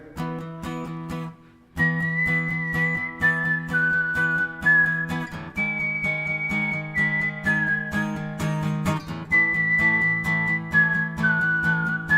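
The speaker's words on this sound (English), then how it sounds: "Let me add some wet so I can whistle." A person whistles a sustained melody with added reverb, clear and loud over a steady droning instrumental backing, with phrases rising and falling in long held notes and no talking.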